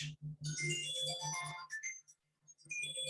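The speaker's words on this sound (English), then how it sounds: "oh, my phone's ringing" A mobile phone ringtone plays a short bright melodic phrase over a low repeating pulse, then stops briefly before starting again, fairly close and clear with no talking.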